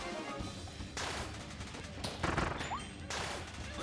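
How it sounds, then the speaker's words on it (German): A shot fires in Kirby and the Forgotten Land, in a factory stage, amid a dense wash of game sound: several sharp bursts and crashing impacts stand out over steady background music and effects. "Da, den Schuss meinte ich."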